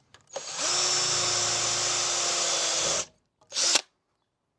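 A cone drill bit bores a hole in a workshop while making a bespoke car dash mount, the power drill whirring loud and steady for about two and a half seconds, then a short second burst after a pause.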